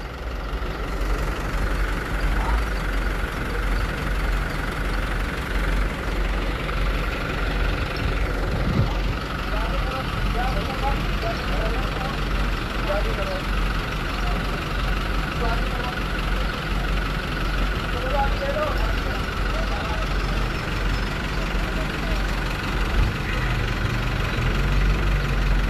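A car engine idles as the vehicle creeps forward, a steady low rumble running throughout with faint background voices over it.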